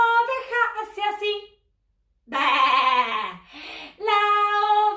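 Voices imitate a sheep in a children's farm song, giving several loud, wavering bleats in bursts with a short pause between them.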